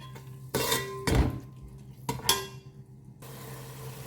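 Masala for prawn biryani cooks in a pan over a low flame, with a few loud metallic clinks and scrapes of a spoon against the pan over a quiet background sizzle.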